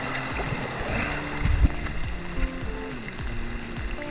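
Ocean water sloshing at a sandy beach as muddy gear is rinsed, a steady close wash of water with occasional splashes and a brief louder slap midway.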